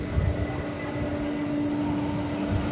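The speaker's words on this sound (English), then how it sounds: "This is Flight 8 going to Sydney. It's a Dreamliner Dash 9." A six-year-old Boeing 787-9 Dreamliner airliner on a flight to Sydney, at DFW Airport at night, gives off a steady, even engine roar with a faint held tone, continuous and moderately distant throughout.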